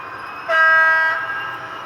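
Model HST train on a layout with its sound unit switched on, giving a brief two-tone horn blast close by over a faint running hum.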